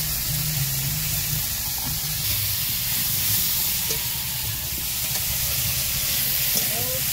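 Fish frying in a pan with salt and turmeric, stirred steadily, giving a continuous close sizzle and hiss with faint scraping throughout, no voices.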